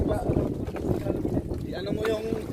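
Wind gusts buffet the microphone with a low rumble while water sloshes against a small outrigger boat at sea; a voice speaks underneath.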